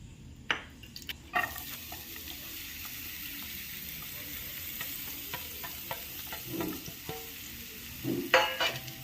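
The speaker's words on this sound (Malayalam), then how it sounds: "ചെറുള്ളി വറുത്തെടുക്കാം." Shallots fry in a pan with a soft, steady sizzle, broken by clinks and scrapes as they are stirred, and a few louder bursts near the end.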